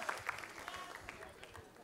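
Applause at a televised Ramadan singing competition, brief scattered clapping from a studio audience, fairly faint and mixed with background voices.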